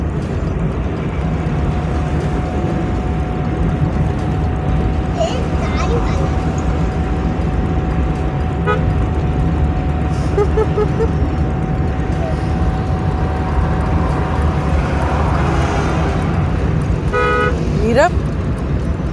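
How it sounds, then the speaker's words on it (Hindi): A car horn toots repeatedly in traffic at a busy Friday market, short bursts rising above steady road noise and engine rumble, with people talking throughout. "तो हॉर्न क्यों बजा रही है बार बार?"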